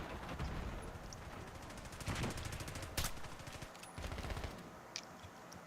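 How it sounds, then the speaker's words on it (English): Gunfire in a video game, a mix of rapid rattling bursts and sharper single cracks, one especially loud shot near the middle, with a brief spoken remark. "I might as well pull out the sniper and pray to God"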